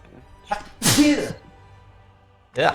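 A single sharp sneeze bursts out close by during a tabletop role-playing game session. It is set between soft breathy sounds, and a voice starts talking right after it.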